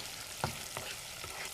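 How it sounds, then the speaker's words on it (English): Bits of okra-soup ingredients frying in a hot pan, a low steady sizzle with a few soft stirring scrapes and clinks, faint and close. "We're going to fry the bits."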